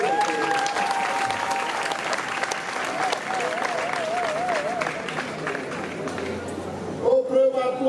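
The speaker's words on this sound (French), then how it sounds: "Je vous demande d'applaudir vraiment pour le baccalauréat" An audience applauds loudly and steadily for baccalaureate results at a school ceremony, with dense clapping throughout, a few voices and whistles rising within the crowd before it thins near the end.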